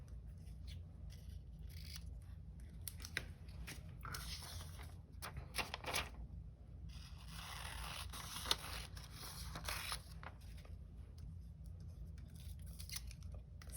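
Scissors snip through paper, cutting long strips for a cityscape collage, producing faint, close crisp cuts and rustles at a low level.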